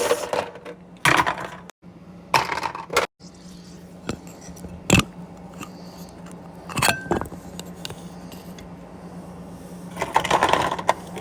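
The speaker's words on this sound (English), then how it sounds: "and then we add the ice." Ice cubes tipped into an Arctic Air Ice Jet portable cooler, clinking and rattling in scattered bursts over a quiet steady hum.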